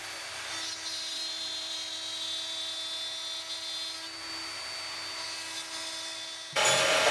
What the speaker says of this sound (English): an 8mm bit at greater depth going through some mahogany